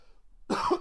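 A single hoarse cough bursts out close and loud after a stretch of near silence, with no talking around it.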